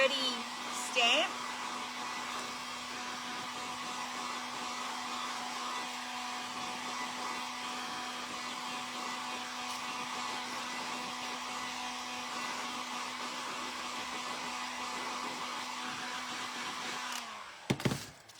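A hair dryer runs steadily for about seventeen seconds, drying stamped pumpkins made from thrifted book pages, a constant close whirring hum that cuts off at the end with a brief handling clatter.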